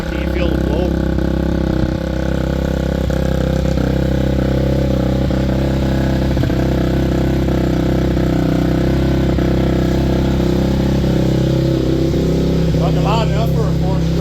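A 2006 Honda CRF 250X four-stroke motorcycle idles loud and steady after a cold start, its engine drone continuous and close throughout, with a brief rev near the end and people talking over it.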